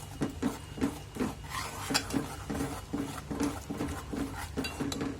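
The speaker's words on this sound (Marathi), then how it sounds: "आपण यामध्ये टोमॅटोची प्युरी घालून घेणार आहोत आणि छान याला मिक्स करून घ्यायचं आहे" Tomato puree being stirred into oily masala in a pan, a spoon scraping and clinking against the pan in a steady rhythm of repeated strokes, close and moderately loud with no talking.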